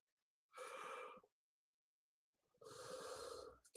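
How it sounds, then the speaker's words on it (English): A person gives two drawn-out breathy yawns, each about a second long, separated by a quiet pause, close to the microphone and without words. "I didn't mean to yawn."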